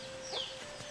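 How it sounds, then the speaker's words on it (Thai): A single brief, faint cluck from a chicken in a small village deep in the forest, with quiet background hiss around it. "ได้ยินแต่เสียงไก่"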